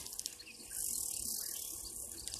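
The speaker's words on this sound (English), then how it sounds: "sounds like grasshoppers of some kind" Grasshoppers at a waterhole make a shrill, continuous buzzing drone that swells after a moment and holds steadily, with faint bird chirps scattered around it.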